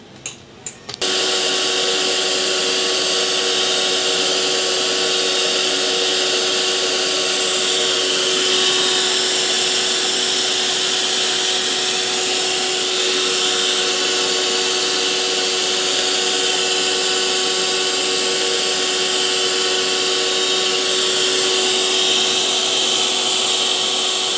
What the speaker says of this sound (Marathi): आता ते दूध गरम होते तोपर्यंत आपण क्रीम बीट करून घेऊ.